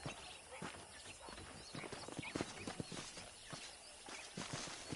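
Horse hooves clip-clop in a steady walking rhythm in the video game Red Dead Redemption, close and moderately quiet, with faint ambient background and no talking.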